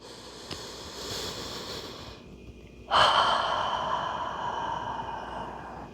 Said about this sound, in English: One more deep belly breath.